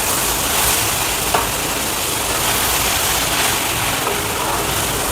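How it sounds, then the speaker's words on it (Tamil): Chopped coriander sautés in a pan of tomato onion chutney with a constant broadband hiss. The sizzle is close and fairly loud with faint stirring clicks, and nobody speaks. "ஆட் பண்ணிவிட்டு இதையும் நல்லா வதக்கிக்கோங்க."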